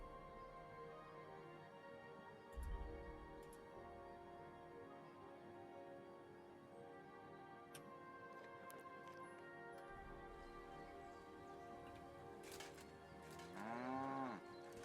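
Cow lowing in a farm-life video game, with a low moo early and a longer drawn-out call near the end, set against a quiet, steady ambient bed.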